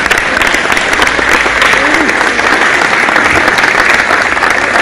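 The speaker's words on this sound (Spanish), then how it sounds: "A los padres que acompañaron, también un fuerte aplauso para ellos por la paciencia." Steady, loud applause from a large crowd at a local Pilar community event, dense clapping filling the whole clip without a break.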